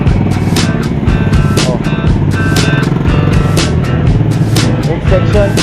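Motorcycles roll past steadily through a busy Philippine public market, engines droning and buzzing close by amid constant crowd chatter and clatter, with people talking throughout.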